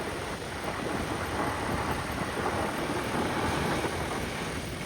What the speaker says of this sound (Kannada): ಆ್ಯಕ್ಚುಲಿ ಮಳೆ ಬರ್ತಿದೆ